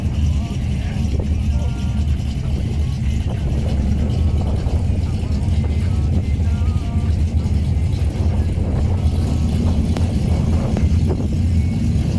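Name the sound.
347 cubic inch Mazda 929 drag car launching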